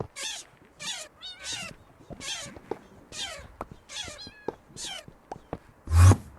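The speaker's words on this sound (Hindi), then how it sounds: "बिल्ली" A Minecraft cat meows repeatedly, a string of short, clear, fairly close meows at a steady pace with a louder final burst.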